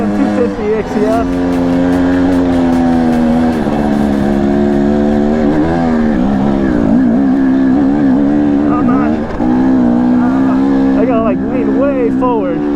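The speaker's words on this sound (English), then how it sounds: "It definitely has the grunt to power up very steep stuff and at speed." A KTM 250 EXC-F four-stroke dirt bike pulls hard up a very steep mountain trail at about 13,000 feet, its engine note loud and close, rising and falling through a steady strained climb for the whole stretch.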